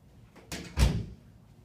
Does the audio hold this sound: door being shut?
yes